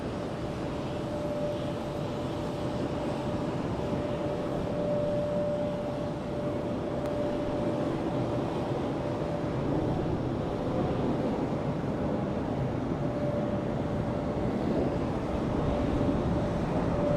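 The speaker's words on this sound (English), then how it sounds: "Frontier taxiing out." A Frontier airliner taxiing at Charlotte Douglas International Airport makes a steady distant engine drone with a faint whine, wrapped in continuous wind noise and no talk.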